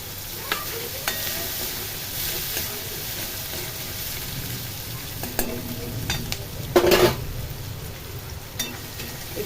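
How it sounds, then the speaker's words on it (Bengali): Sliced onions with salt frying in hot oil are stirred in a pan, giving a steady, close sizzle broken by occasional scraping and clattering stir strokes. "নুন দিয়ে নাড়াচাড়া করে নিই পেঁয়াজটা ভাজা ভাজা হয়ে গেলে"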